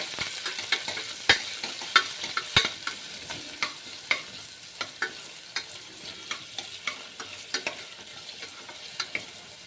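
Curry leaves and onions fry with mustard seeds in a pan, giving a steady sizzle broken by sharp, repeated spatula scrapes and clinks as they are stirred, close by and with no voices.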